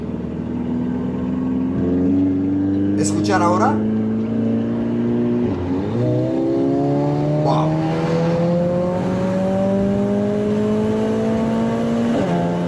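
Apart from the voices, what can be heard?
AMG A45 S engine at full throttle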